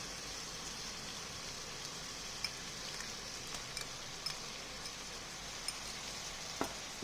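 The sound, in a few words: ginger garlic paste frying with onion and tomato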